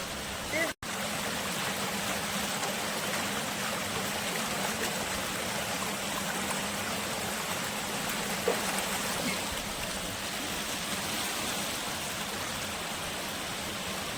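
Tapioca and kitchen utensils being washed in a flowing stream, the water rushing steadily and loudly throughout, with a brief knock near the start and a small splash partway through.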